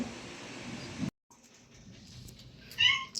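A mother cat meows near her kittens, giving a clear, close cry after a quieter stretch of indoor background noise.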